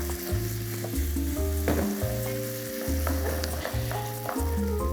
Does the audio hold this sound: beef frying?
yes